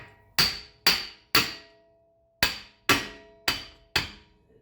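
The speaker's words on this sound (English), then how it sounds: "take this off the rest of the way and hammer the axle through." Car axle on a Toyota FR-S, Subaru BRZ or 86 being hammered through its hub, seven sharp ringing metallic blows in two groups, three then four, each fading quickly, heard up close with no talking.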